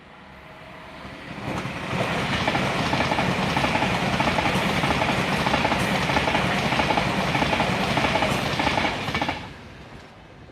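A Pendolino passenger train rushes past close by, a steady loud roar of wheels and rails building up, holding for several seconds, then dropping away.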